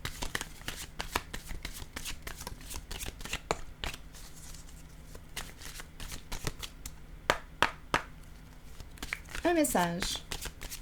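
Tarot cards are shuffled by hand in a series of crisp riffling snaps and slaps, with a brief bridge-like flutter near the end. Someone speaks French between the shuffles.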